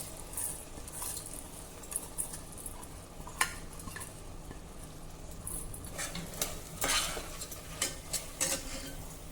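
Washed rice tipped into chole masala with fresh coriander in a pan and stirred: close scraping and clinking of a spoon against metal, with soft patter and irregular louder scrapes, no voices.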